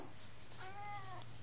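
A large domestic cat gives a single short, faint meow close by, rising and falling over about half a second in a quiet room.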